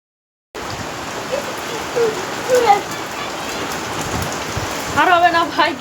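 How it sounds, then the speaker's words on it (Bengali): Heavy rain pours straight onto a camera, a dense close hiss and patter that starts abruptly after a short silence, while faint voices and a few higher tones sit underneath. "ক্যামেরাতে আর কিন্তু জোরে জোরে পানি পড়ছে"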